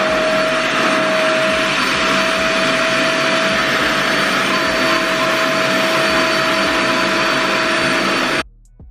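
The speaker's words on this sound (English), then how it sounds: "FYI, this blow dryer is a little loud. I'm gonna let y'all hear it" A Revair blow dryer runs continuously, a loud, steady vacuum-like roar with a constant tonal whine, up close for several seconds before switching off abruptly.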